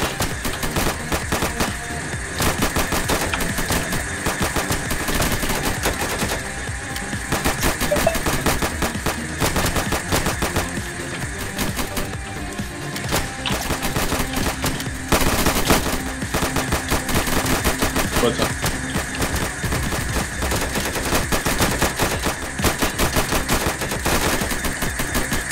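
Rapid automatic gunfire in a Minecraft PayDay2 mod game comes as dense, continuous bursts. The shots are loud and sustained, with short breaks, and stay in the foreground throughout.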